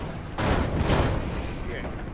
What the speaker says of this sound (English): I wonder how they know how to fucking aim with that artillery